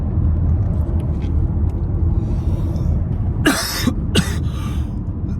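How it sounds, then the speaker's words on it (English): Two sharp coughs close to the mic, the second shorter, over a steady low rumble of traffic or a motor. "I've been coughing this morning again"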